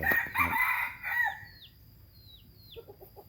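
A Thai fighting rooster crows close by, one loud crow trailing off, then a few softer clucks in a quiet yard.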